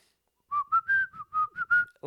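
A person imitates a loud, piercing whistle in a series of short sharp bursts, rising and falling slightly in pitch, ending abruptly.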